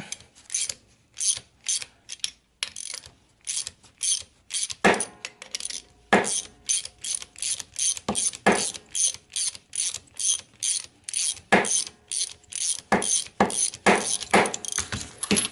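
Wrench ratcheting while a driveshaft part is extracted from a Citroën 11 in a workshop, a long run of sharp, regular metallic clicks in quick bursts with short pauses, close and distinct.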